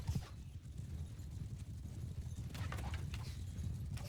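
Hooves of mounted horse archers following the player in the video game Bannerlord, a steady low rumble of many clip-clopping hoofbeats at moderate distance, continuous and unbroken, with no talk over it.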